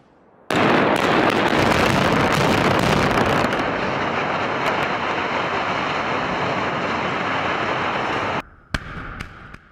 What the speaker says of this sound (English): The explosion collapse of boiler number 1 and electrostatic precipitator number 1 at the Sutton plant in Wilmington.